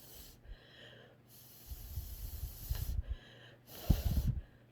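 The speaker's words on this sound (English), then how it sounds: "I do blow on it to dry it" Short bursts of breath blown onto wet faux slate woodgrain paint, several close puffs separated by quiet pauses, rising in strength toward the end.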